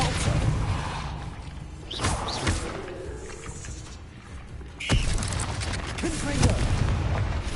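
The Depulso spell fires in Hogwarts Legacy, a whooshing magical burst with sharp impacts amid booming game combat noise, recurring as several loud hits over a dense, continuous rumble.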